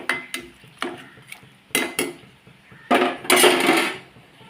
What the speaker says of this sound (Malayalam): ഇത് നന്നായിട്ട് മിക്സ് ചെയ്ത് കൊടുക്കട്ടെ